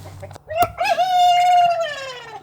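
A chicken in a backyard coop gives an odd, drawn-out crowing call with a rising start and a long sustained tone that tails off, close and loud, with a sharp knock just before and no talking.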